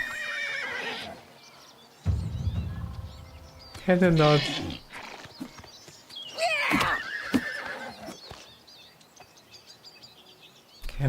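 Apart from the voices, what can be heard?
horse neighing in video game TES IV: Oblivion Remastered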